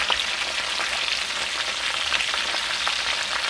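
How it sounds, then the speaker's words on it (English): Cabbage and potatoes frying in a pan on medium-high heat, a steady close sizzle with faint crackles and the occasional stir, no voices. "start my cabbage frying"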